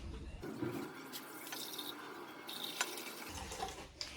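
A cup of water being poured into a pot before canning cherries, a short rushing, filling splash close by with faint clatter, no talking.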